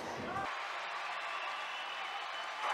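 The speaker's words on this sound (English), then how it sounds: "you hear the round of applause as the Trojans introduced first time as the champions, as the state champions" Crowd applause in a high school basketball gym for the Trojans being introduced as state champions, a continuous broad roar of clapping that holds steady and swells slightly at the end.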